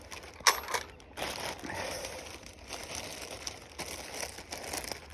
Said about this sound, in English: That's the plastic bag.